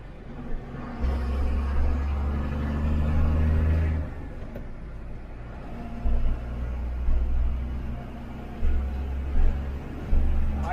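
An AMW truck with a nine-speed double-shift gearbox being driven, its engine rumbling in long low surges that rise and fall through gear changes, heard close from the cab.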